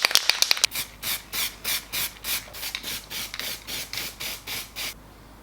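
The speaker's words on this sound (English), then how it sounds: "We're going to give it a quick coat with some aluminium zinc spray, some primer" An aerosol can of aluminium zinc primer sprays onto metal parts of a Sierra Sapphire RS Cosworth fuel system, first in several quick short bursts, then in about a dozen even, rhythmic hissing passes, close and clear.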